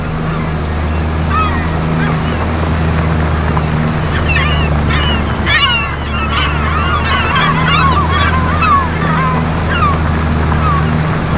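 Seagull cries from a game sound mod play during farm fieldwork on the Paoli map: repeated sharp squawks and calls over a steady low engine drone, loud throughout.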